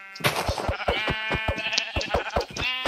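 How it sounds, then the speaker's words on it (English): A flock of Minecraft sheep bleats repeatedly in quick, overlapping calls, fairly loud and close, with several bleats following one another in a steady stream. "Look at all the sheep!"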